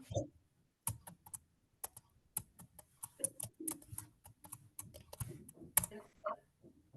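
Typing on a computer keyboard while working on an Excel spreadsheet: irregular, fairly quiet clicks and key taps scattered across the whole stretch, with a few louder keystrokes and faint speech in the background.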